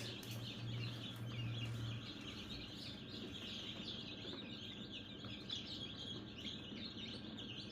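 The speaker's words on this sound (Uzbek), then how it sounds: "Ha, damashni jo'jalar hammasi." A crowded brood of home-raised chicks chirps continuously, many thin peeps overlapping into a dense, fairly soft chorus with a few lower clucks underneath and no talking.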